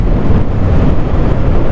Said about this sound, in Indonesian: di sini anginnya kencang banget